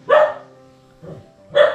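Nearby dog barks sharply twice, with a softer woof in between, loud against a quiet background.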